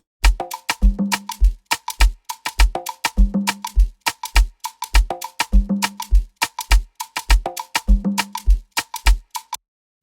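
Afrobeat drum loop layered with an added kick drum, programmed in Logic Pro X: punchy repeating groove of sharp percussive hits and deep kick thumps in a steady syncopated pattern, loud and close, no talking.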